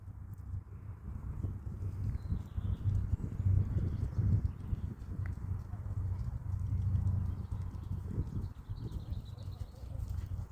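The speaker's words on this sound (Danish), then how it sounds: "Den er også stor, den der hest." A large horse trotting in a riding arena, its hooves giving a soft, steady clip-clop on the footing, heard moderately close under low rumbling background noise.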